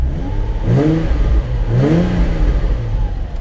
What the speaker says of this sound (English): This car sounds very healthy.